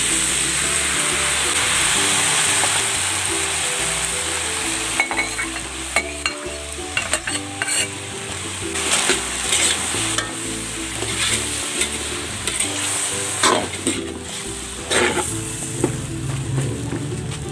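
Pork menudo with tomato sauce sizzling in a pan, a loud, continuous bubbling hiss with repeated scraping and clattering as it is stirred, close up with no talking.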